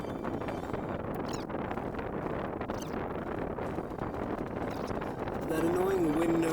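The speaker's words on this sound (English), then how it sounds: "That annoying wind noise is my fan from earlier" An electric fan blowing across a microphone, a steady broadband whooshing rumble throughout, close and fairly loud, with a faint tone near the end.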